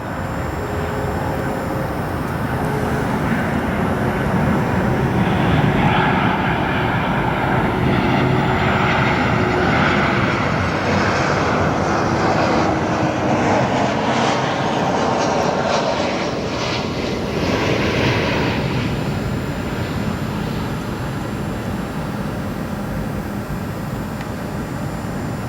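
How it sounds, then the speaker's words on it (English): A jet airliner arrives on runway 10 center at O'Hare International Airport, a loud, sustained roar and whine that swells as it passes close, then slowly fades and trails off into a steady rumble. "here comes our next arrival here at O'Hare International Airport"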